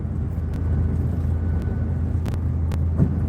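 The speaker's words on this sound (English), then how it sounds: "they have the ACs on, and the bus is kind of loud" Inside a loud bus on the road with the air conditioning running: a constant low rumble and engine drone, steady whooshing airflow, and a few brief clicks and rattles, with no voices.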